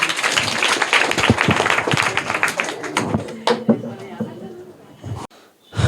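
Private-school children at a general-knowledge quiz in Bihar give loud, rapid clapping for a student. The burst is strong at first, then thins out into scattered claps and talk before a brief pause.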